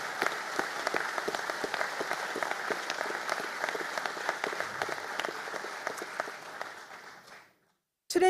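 Audience at a graduation ceremony giving sustained applause, a dense crowd of clapping hands that holds steady, then fades to silence near the end.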